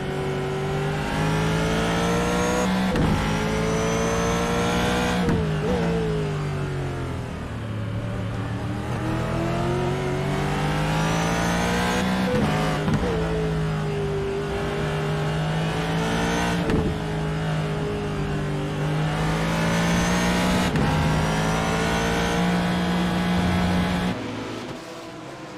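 American V8 GT3 race car at the Hungaroring, heard onboard as the engine screams through rising and falling gear changes, loud and continuous with sharp shift breaks throughout.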